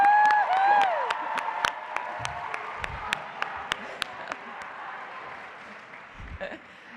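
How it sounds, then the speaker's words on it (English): Applause from a convention crowd at a Key Club gathering, a dense steady wash of clapping with sharp individual claps standing out, fading slightly toward the end. "one more round of applause."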